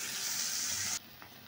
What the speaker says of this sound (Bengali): মাছটা ভাজা হোক।